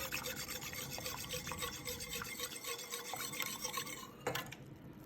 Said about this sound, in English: If you keep stirring it, that will dissolve. So just keep stirring it.